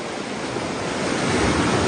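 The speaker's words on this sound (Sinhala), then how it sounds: "අයියෝ වතුර පාර යනවනේ" Water rushes past steadily and fairly loudly in a broad, continuous wash with no pauses, heard alone without voices for about two seconds.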